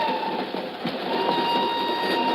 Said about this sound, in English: she's aboard a northbound train rolling out of Lisbon